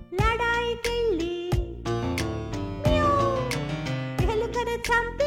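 Repeated, stylized cat meows in a Telugu children's rhyme come loud and close, woven into a bright musical backing with a bouncy rhythm.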